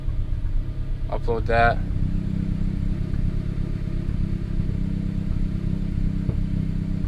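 Idling engine of a turbocharged Honda Accord running slightly rough, a steady low rumble that continues throughout, with a short spoken phrase near the start.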